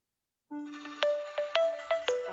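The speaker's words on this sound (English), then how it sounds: "somebody's calling me. That's probably my phone." A mobile phone rings with an incoming call during a live makeup session at a salon, playing a melodic ringtone of repeated rising tones that start abruptly and repeat about every half second, clear and alone.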